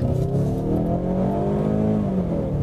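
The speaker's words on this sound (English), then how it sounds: "It sounds so goofy flooring this thing and hearing that angry four-cylinder." A 2015 Ford Mustang's turbocharged 2.3-liter EcoBoost four-cylinder revs hard under full throttle, a loud, close, droning engine note that climbs steadily in pitch with no talking over it.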